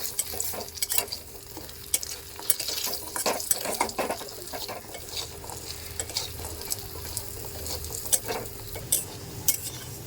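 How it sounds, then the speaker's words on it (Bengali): Bori, small sun-dried lentil dumplings, fry in hot oil left from frying fish, giving a steady close crackle and sizzle with scattered stirring clinks and scrapes of a utensil against the pan. "বড়িগুলো ভেজে নেব লাল লাল করে ভাজবো বড়িগুলো"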